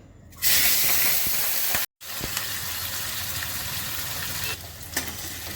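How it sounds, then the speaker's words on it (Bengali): Prawns fry in hot oil in a pan, giving a loud, steady hiss and sizzle that cuts out briefly, then resumes and settles down a little toward the end. "চিংড়ি মাছগুলো ভেজে নিচ্ছি।"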